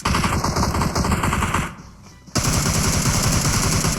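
Loud, dense automatic gunfire in PUBG Mobile, rapid bursts running continuously, breaking off for a brief pause, then resuming at full intensity close to the listener.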